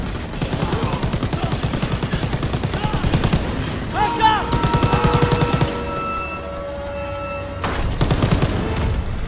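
Bursts of rapid gunfire and explosions from a World War II shooter, Call of Duty WWII, with grenade blasts in a train-bound battle; loud, dense fusillades run throughout while voices talk over the fighting.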